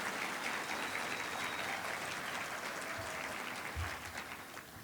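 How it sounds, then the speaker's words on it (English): A debate audience applauds Virginia delegates with steady, dense clapping that fills the room at an even level and tapers slightly toward the end. "So a big round of applause"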